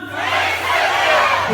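A festival crowd at the 2019 Hesarek Festival shouts back at a singer in one loud, sustained mass of voices, swelling and holding at close range for a moment.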